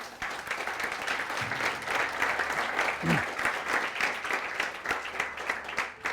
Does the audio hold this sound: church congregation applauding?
yes